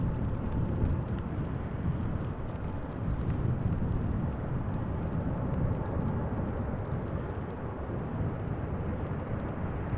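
A KLM Cargo Boeing 747-8 landing on runway 22 at Amsterdam Schiphol, its thrust reversers producing a broad, steady low roar with wind-like rumble that stays constant and fairly distant throughout.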